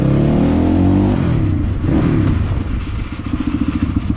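A Crossfire XZ250RR dirt bike engine runs loud and close, holding a steady throbbing rumble that shifts into a choppy, pulsing idle-like beat toward the end.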